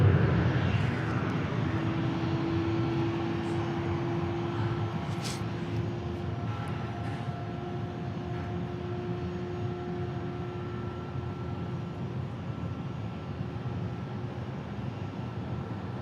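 Jet airliner taking off at Dallas Love Field, a steady broad engine roar with faint whining tones, heard from a distance and slowly fading over about sixteen seconds.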